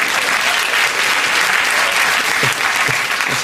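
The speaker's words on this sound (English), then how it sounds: "That's a very limp round of applause." A studio audience at a British TV chat show gives a limp round of applause, steady clapping that holds at an even level with a few low, faint murmurs near the end.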